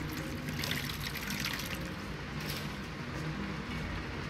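Water poured in a video game, a steady soft rushing trickle that runs evenly for about four seconds with no talking.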